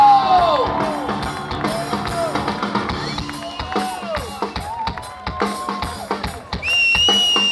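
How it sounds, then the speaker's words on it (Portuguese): A live concert crowd whoops and cheers loudly for the band's drummer, with rising yells over a steady wash of music and noise that swells again near the end. "uma grande salva de palmas"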